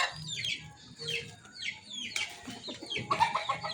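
A Polespark Gray gamefowl rooster clucks close by in short, repeated choppy bursts, with other farm birds chattering in the background.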